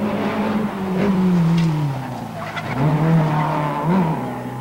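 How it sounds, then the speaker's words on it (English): Rally cars racing through the streets of Ramelton during the 1984 Donegal International Rally: engines rising and falling in pitch as cars pass and accelerate, steady and fairly loud, with a faint crowd wash behind. "So let's just enjoy watching, possibly for the last time, racing through the streets of Ramelton."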